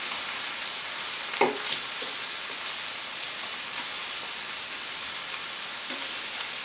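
Gyro meat slices frying in a pan, a steady close hiss and crackle of sizzling fat that holds evenly throughout, with a brief clunk of handling near the start.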